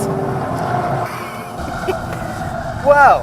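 A 2016 Ford Focus RS engine, its sound boosted with artificial noise, hums steadily inside the cabin, then swells into a brief louder rasp near the end, with someone speaking a word over it.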